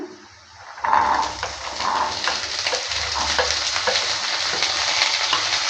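Potatoes with bean seeds and fenugreek greens sizzle loudly in a pan once the ingredients go in, with stirring scrapes over the steady frying hiss.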